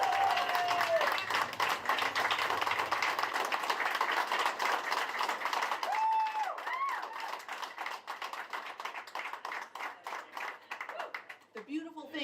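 Supporters of Leslie Church cheer and clap at her campaign headquarters in Toronto St. Paul's on federal election night. The crowd noise is loud and steady, with brief voices rising above it.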